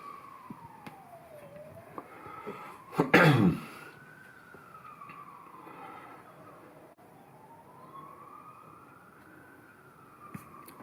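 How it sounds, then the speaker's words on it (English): A distant siren wails up and down throughout, rising and falling slowly, with a loud cough breaking in near the start. "Hear those sirens?"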